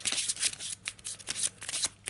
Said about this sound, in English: We'll give it a little shuffle.